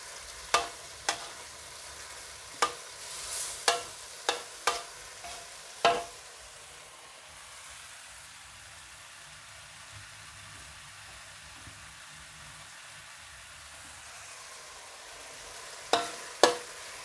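Pork and shrimp stir-frying with tomato and cucumber in a pan, a soft steady sizzle with a few sharp scrapes and clanks of a utensil, clustered early and again near the end, fairly quiet and close.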